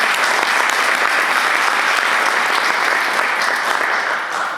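Sustained, loud audience applause at a human trafficking speaker event, dense steady clapping that fills the whole stretch before easing slightly at the end.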